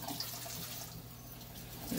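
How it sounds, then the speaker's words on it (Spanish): Ginger is rinsed under running water in a home kitchen, giving a quiet, steady wash of flowing water for two seconds with no talking. "Después lo enjuaga en agua"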